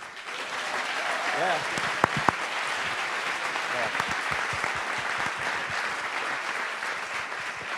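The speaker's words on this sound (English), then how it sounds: "how about another round of applause?" A film festival Q&A audience breaks into steady, full applause that holds evenly for several seconds, with a brief spoken word near the start.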